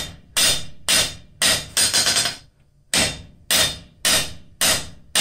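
Hammer blows ring sharply on an anvil while blacksmith tongs are forged: a steady series of loud, close strikes about half a second apart, with one brief pause and a short run of quicker hits.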